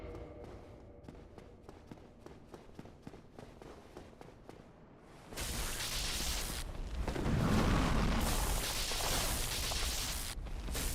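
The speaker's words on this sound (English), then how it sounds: "I fully agree that explosion is way too stupidly loud" Loud explosion in a Soulsborne action game: quiet footsteps and soft movement give way to a sudden heavy boom that swells into a long rumbling roar and keeps on filling the space.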